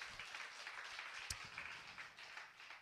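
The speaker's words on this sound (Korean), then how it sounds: "하나님께 영광의 박수 한번 칩니다." Congregation applauding during a Korean church service, a steady wash of faint, distant clapping lasting a few seconds with one sharper clap standing out.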